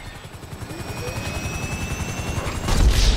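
A helicopter in GTA V thumps with a rapid, loud rotor chop close by, its steady beat growing heavier toward the end as a louder burst of noise breaks in.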